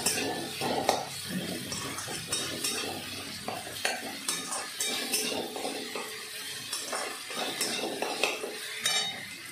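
Okra and onion stirred in a frying pan with garlic paste, a spoon scraping and clinking against the pan in a steady rhythm over a soft sizzle, close and moderately quiet, no talk.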